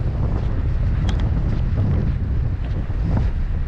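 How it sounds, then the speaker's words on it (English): Strong wind buffets the microphone by a beach in Ireland during a motorcycle tour, a loud constant low roar that fills the whole stretch with no talk. "There's a lot of wind, so I'm just trying to block the microphone at the moment."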